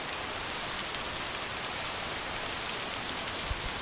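Steady rain falls in the farming video game Lake, a dense, even hiss of rainfall that runs unbroken throughout with no voices over it.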